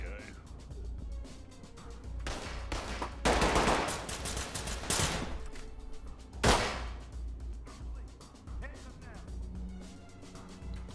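Bursts of rapid gunfire in the tactical shooter Ready or Not, several loud volleys and single cracks spread across the stretch, with players talking over the shots.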